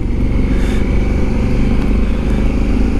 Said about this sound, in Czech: tady jsou nějací motorkáři